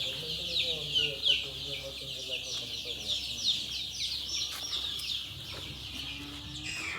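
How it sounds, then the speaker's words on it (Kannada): Native country chickens and their chicks at a village house cluck steadily, with high chirping on top and a voice or two murmuring in the background. "ಪ್ಯೂರ್ ನಾಟಿ ಕೋಳಿ."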